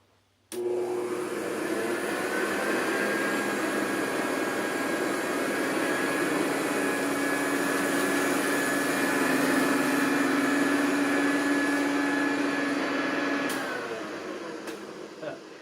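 A Hoover Convertible U4007 upright vacuum cleaner fitted with an upgraded, more aggressive brush strip switches on and runs with a loud, steady whine and motor roar, then spins down near the end.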